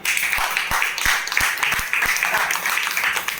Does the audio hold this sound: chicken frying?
no